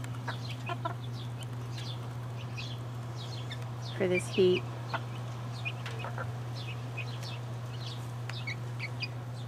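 Soft chicken clucks and chirpy bird calls scattered over a steady electrical hum, with a brief spoken phrase partway through.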